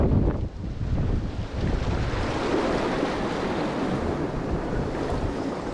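Waves wash steadily onto the shore as the tide rises, heard while fishing for horse mackerel from the coast. Wind buffets the microphone, and the surf roars loud and continuous throughout with no voices.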